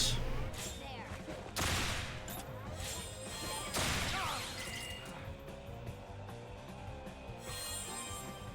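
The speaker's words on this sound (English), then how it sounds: "Yay, fireworks." Fireworks burst in the fantasy video game Pathfinder: Wrath of the Righteous, a few sharp loud cracks followed by crackling, rumbling tails and a lingering hiss that fades over several seconds.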